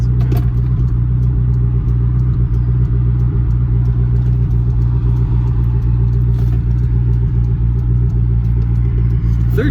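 A 1997 Lotus Esprit V8 twin turbo pulls hard under acceleration, a loud, steady low engine drone and rumble heard from inside the cabin, continuous throughout.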